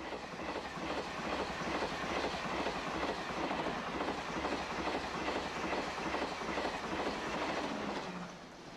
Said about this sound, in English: The train that used to cross the channel meets the train that now goes under the channel.